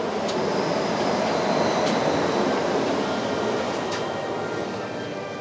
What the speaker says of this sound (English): Oh, monorail.